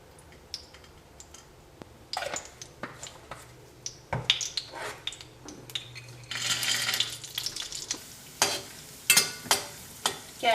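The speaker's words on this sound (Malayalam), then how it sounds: "കാഷ്നട്ടിനൊന്ന് വറുക്കുക" Cashew nuts fried in a pan give a soft sizzle under repeated close clinks and scrapes of a spoon stirring against metal, with a brief louder frying hiss in the middle.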